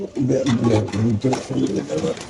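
Caged racer pigeons coo close by in a rapid, throaty, rolling burble, with people talking around them.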